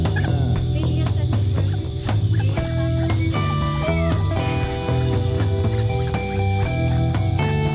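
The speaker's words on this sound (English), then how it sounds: "Little baby chickens." A clutch of baby chickens and nearby fowl peep and cluck in a busy, overlapping chorus, close and continuous, with gobbling bird calls mixed in.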